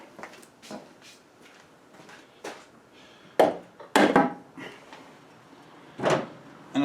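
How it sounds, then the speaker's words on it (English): A wooden log used as a dead blow hammer strikes parts during small block Ford engine removal on a classic Mustang: a series of sharp, hollow knocks, some louder and heavier, spaced irregularly with quiet gaps between. "I don't have a dead blow hammer, so I got a dead blow log here."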